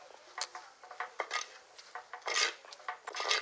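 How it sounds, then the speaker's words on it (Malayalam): Dry chili powder and coriander powder stirred in a pan, a spoon scraping and rubbing against the metal in short irregular strokes, close and fairly quiet, with no talking. "ഒന്ന് ഇളക്കി കൊടുക്കാം."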